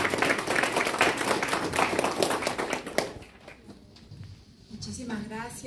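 Loud, rapid applause from a crowd at a congress closing ceremony for about three seconds, then fading out as a voice begins speaking.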